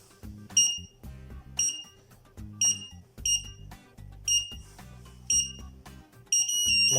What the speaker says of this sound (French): la bombe émet un bip sonore chaque seconde jusqu'à l'explosion